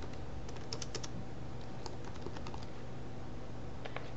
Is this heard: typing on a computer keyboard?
yes